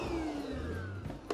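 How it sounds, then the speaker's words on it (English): A small vacuum cleaner hums steadily while picking up sawdust during a vinyl plank flooring job, its pitch slowly sliding down before a brief clatter at the end. "let me go get my little vacuum real quick, and so I can clean up this sawdust"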